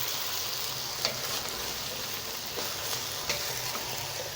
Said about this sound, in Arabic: نزلنا بالبامية هي يا جماعة، نشوحها كويس اوي مع بعض